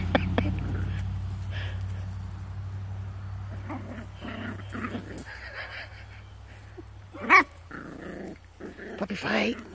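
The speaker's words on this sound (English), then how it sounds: "Puppy fight." Puppies play-fighting, with low rumbling growls and scuffling, snarls and yips breaking out in bursts, close by and under a person's quiet talk.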